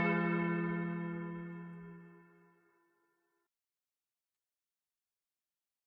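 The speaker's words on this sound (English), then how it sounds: "Bells, it sounds like." A deep, resonant bell strikes once and rings out loudly, its tone fading away over about two seconds into silence.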